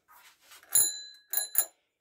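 Bell on a Motobecane AV65 moped, rung three times close up. Each strike is a bright metallic ding with a ringing tail, preceded by faint handling clicks.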